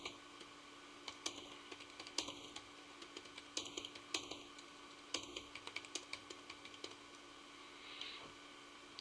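Someone types on a computer keyboard, irregular clusters of light clicking keystrokes with a few louder key taps, close and quiet with no speech.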